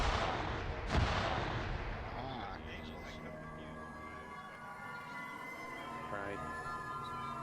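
A dynamite blast goes off in a video game, one sharp booming thump near the start followed by a ringing, siren-like tail and ongoing game noise, with voices talking throughout.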